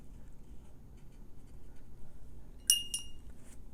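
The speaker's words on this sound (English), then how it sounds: "Sorry for the glass clinking." Brief glass clinks as a brush taps a water jar while painting watercolour hydrangeas, two or three light bright chinks near the end over a faint quiet background.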